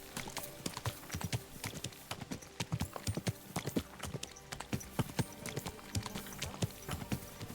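Horse hooves clip-clop in a steady, brisk rhythm in the video game Kingdom Come: Deliverance 2, close up and fairly quiet, with a faint occasional whinny beneath.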